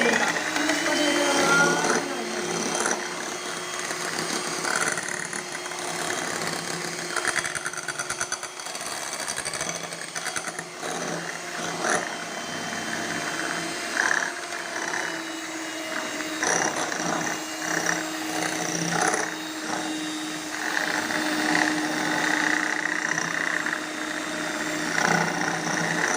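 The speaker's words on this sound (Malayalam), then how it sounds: "ഇതൊന്ന് നന്നായി ബീറ്റ് ചെയ്തെടുക്കാം" An electric beater whirs steadily as it beats cake batter with milk and vinegar for a doll cake. The motor runs continuously at close range, with light rattling against the bowl.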